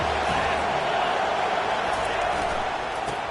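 A stadium crowd in a college football video game roars for the defense on third down, a dense, steady wall of cheering with a commentator talking over it.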